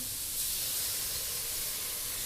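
Pork and mi sua noodles stir-frying in a pan after a splash of light soy sauce, a steady broad hiss and sizzle running evenly throughout without pause or talk.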